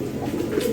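A brief burst of close, loud, low throaty cooing comes from a pair of Bombay pigeons kept in a breeding pen.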